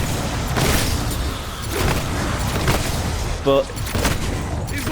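Gunfire from the BlunderGat and SunderGat in a video game, several booming shots spaced about a second apart over a busy game soundscape, with a voice talking in the background.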